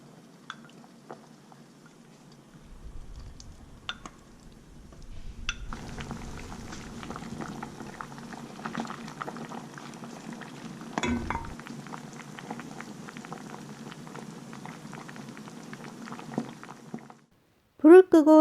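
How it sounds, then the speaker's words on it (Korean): Korean beef stew bubbling in a pot with boiled eggs, garlic, radish and mushrooms, a soft steady boil with light popping, quiet at first then fuller, ending abruptly with a short clatter. "삶은 달걀, 마늘, 무, 버섯을 넣고 10분 정도 더 끓여주세요"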